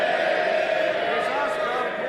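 Members in the UK Parliament chamber during Prime Minister's questions raise a loud, sustained roar of cheering and shouting voices, a dense crowd sound with no single speaker standing out.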